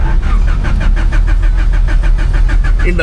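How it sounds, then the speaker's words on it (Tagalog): A stalled car stuck in the middle of the road cranks loudly and steadily for about three seconds, the starter whirring in a fast repeating rhythm while the engine fails to catch. "Oh, biglang tumirik. Ayaw mag-start."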